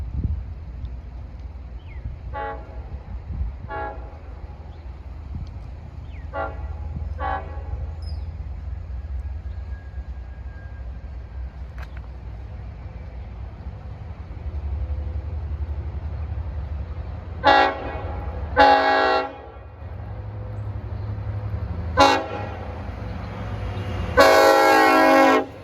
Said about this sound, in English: approaching is 2768 train number, Babylon Patchogue with DE30AC 409 with a K5LLA horn